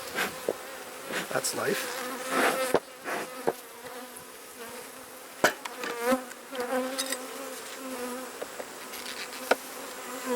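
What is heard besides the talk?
honey bees buzzing around hive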